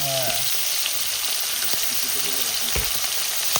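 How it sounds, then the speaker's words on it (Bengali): Fish fries in hot oil at a riverside picnic in the Sundarbans with a loud, unbroken hiss and crackle, close by, and a brief voice in the background at the start. "মাছ ভাজা শুরু করে দিয়েছে তাহলে?"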